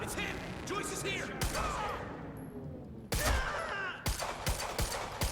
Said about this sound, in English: I definitely shot him in the head